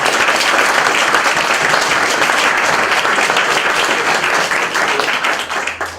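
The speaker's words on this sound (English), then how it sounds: "let's give them a very strong applause" Loud, dense applause from a demo day audience cheering startup teams at an MIT Enterprise Forum event, continuous clapping from a large crowd that holds steady and then tapers off near the end.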